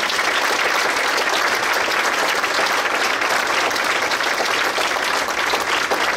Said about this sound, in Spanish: Démosle palmas muy fuertes al Señor